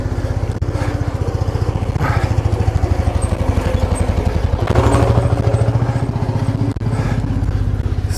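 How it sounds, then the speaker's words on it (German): A two-stroke tractor rumbles past at close range on a country path, its engine chugging in a steady fast rhythm that swells as it passes, with no talking over it. "Vorsicht Traktor. Ihr dürftet ihn schon hören."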